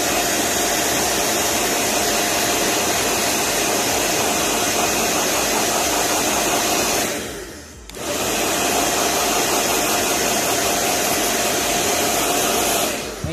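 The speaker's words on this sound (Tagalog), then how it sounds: "Ganyan lang siya kasimple pagka heat gun eh." A loud, steady blowing roar from a heat gun used to rewrap a battery, running continuously, briefly cutting out near the middle before resuming at full strength.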